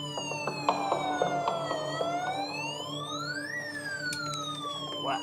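A child's toy fire truck wails with an electronic siren, its tone sweeping down and then back up, steady and moderately loud, with faint clicks underneath.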